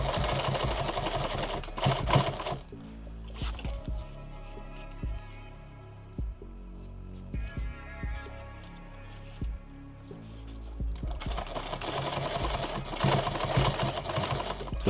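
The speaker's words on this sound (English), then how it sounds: "So let's sew these real quick." A sewing machine stitches attachments for a modular load-bearing vest in bursts of rapid mechanical chatter, separated by quieter stretches of slow, spaced needle thumps, fairly faint and close.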